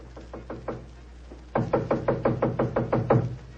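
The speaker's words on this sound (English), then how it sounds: "I raised my hand to knock on what once had been my own living room door" Knocking on a living room door as a radio drama effect: a few light raps, a short pause, then a faster, louder run of about a dozen knocks, close and dry.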